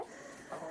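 Chickens in a backyard coop give a brief, faint cluck or two, soft and close, with no talk over them.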